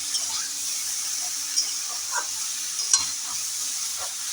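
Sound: vegetables frying in pan with panch phoron

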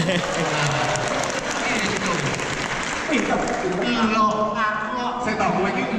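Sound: audience applause for the lecturers

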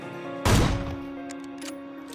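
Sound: AWM sniper rifle gunshot in the video game PUBG

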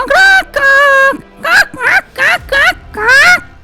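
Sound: cartoon voice imitating a hen clucking

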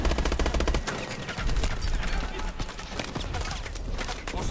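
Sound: gunfire in the video game Call of Duty: Advanced Warfare

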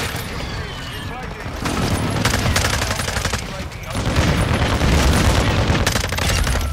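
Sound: gunfire in a video game

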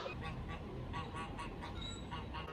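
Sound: geese honking

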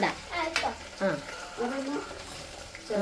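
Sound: stirring and frying gooseberry pickle in a pan

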